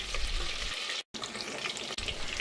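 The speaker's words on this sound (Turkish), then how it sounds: "Tereyağını tencereye koydum, erittim. Salçaları ilave edip kavurdum." Steady, close sizzling and crackling of butter and tomato paste frying in a pot, continuous hiss with a brief gap, no voices.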